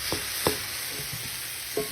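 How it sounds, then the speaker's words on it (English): Onions and mushrooms cook in butter in a hot pan. A soft sizzle runs underneath while a utensil stirs and scrapes them in a few brief, distinct strokes, with no speech. "you're going to saute this till your onions and your mushrooms are tender"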